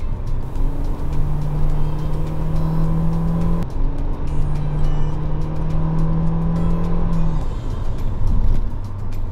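A Nissan Kicks with a CVT gearbox drives steadily, its engine droning loud and close with a sustained whine that rises, breaks off briefly, and resumes, no voices heard.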